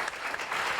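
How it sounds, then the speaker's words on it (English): Audience clapping for speakers at a river restoration summit, a brief burst of dense, even applause from a crowd in a room. "Let's give all of our speakers a round of applause."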